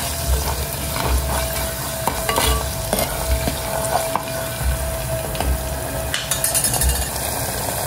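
Ginger garlic paste frying with onion in a pan while being stirred, a steady moderate sizzle with scraping stir strokes and occasional spatula knocks, no talk.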